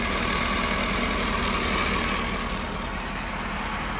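A 2011 Ford F-550 mechanics crane truck with a 6.7 Powerstroke diesel and 103k miles idles steadily with a slightly irregular PTO chatter, a close, continuous low rumble with no talk.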